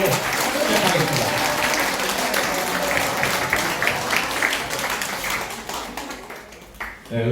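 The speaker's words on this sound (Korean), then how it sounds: "오신 분들 서로 잘 오셨다고 박수 한번 하고 시작하겠습니다" An audience at a business information session claps together in sustained, dense applause lasting several seconds. The clapping stays steady and close, then briefly dips before a final burst.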